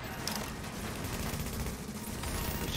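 Sustained gunfire in The Division video game during a legendary mission, a dense, steady barrage of rapid shots rolling without a break at moderate level, no talk heard.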